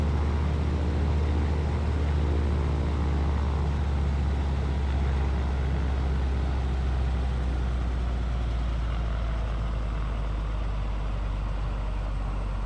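An airliner taxiing in Microsoft Flight Simulator 2024: a steady, loud low engine drone with a broad whine above it, continuous and unchanging throughout, with no voices.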